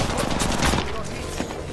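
Rapid bursts of gunfire from an online ranked shooter video game, dense and loud through the first part, then continuing slightly softer with a sharp shot near the end.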